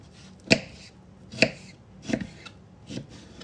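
A knife chops cucumber on a board in four sharp, separate strokes, spaced about a second apart, close and fairly quiet.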